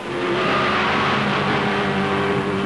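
A 1971 Formula One race car from the Tyrrell era runs a warming-up lap with a loud, steady, buzzing engine drone throughout. No voices are heard over it.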